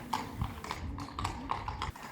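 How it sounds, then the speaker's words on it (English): Horses' hooves clip-clop on cobblestones in an old Danish town square, a steady run of about ten light, ringing hoof strikes at a slow walking pace, moderately close and alone. "Horses pass slowly through the streets"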